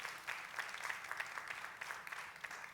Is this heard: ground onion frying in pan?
no